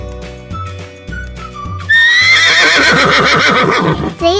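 A horse on a farm hay ride lets out a loud, close, drawn-out whinny, preceded by quieter whistling tones and low rumbles.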